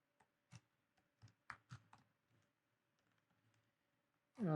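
Typing on a computer keyboard, a handful of scattered, faint clicky keystrokes in an irregular rhythm with quiet gaps, ended by a brief louder burst of voice.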